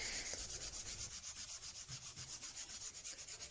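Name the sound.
hand sanding wood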